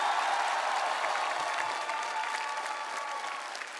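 Studio audience applauding on a TV singing show, a dense, steady wash of many hands clapping together that holds for several seconds and eases slightly toward the end, with no talking.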